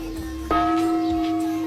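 A gong at the water clock gate of an old hilltop fort is struck once, a sharp hit followed by a steady ringing, sustained tone that hangs and slowly fades.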